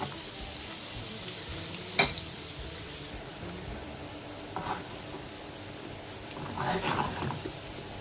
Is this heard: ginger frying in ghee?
yes